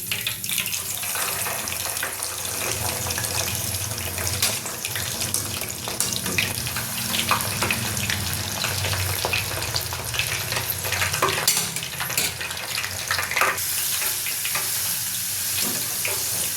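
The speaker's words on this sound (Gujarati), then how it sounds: "કેપ્સિકમ તળી લઈશું" Capsicum sizzles and crackles in hot frying oil, a steady continuous hiss with scattered pops and stirring clinks throughout, no voices.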